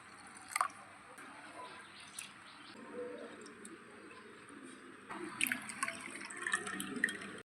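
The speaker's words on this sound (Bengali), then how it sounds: "ডালটাকেও আমি ভালোভাবে পরিষ্কার জলে ধুয়ে নেব।" Mung dal is swished and rinsed in clean water, giving quiet splashing and trickling that grows slightly busier toward the end, with faint clinks of a bowl.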